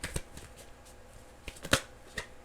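Tarot cards being shuffled by hand close by, a few soft riffling bursts and taps spread across a quiet stretch, the loudest flick near the end.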